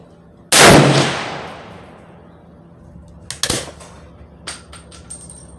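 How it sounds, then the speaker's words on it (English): A Swiss K31 rifle fires one loud, close shot on an outdoor range with open sights at 25 yards. A sharp blast rolls into a long fading echo, followed by a few quieter metallic clicks and clanks. "I got a K31, and I can't wait till I shoot this thing"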